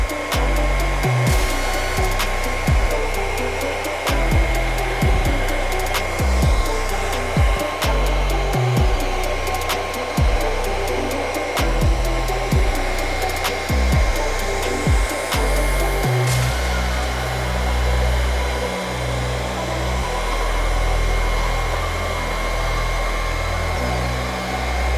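A blowtorch heats a cast epoxy piece up close, a loud continuous roaring hiss with a fluttering, pulsing texture that steadies in the last stretch; no one speaks.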